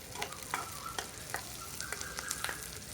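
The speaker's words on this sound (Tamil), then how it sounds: "வெங்காயம் நல்லா வதங்கட்டும்." Onions sauté in a pan with a soft, continuous sizzle, broken by light clicks and scrapes of stirring, quiet and close.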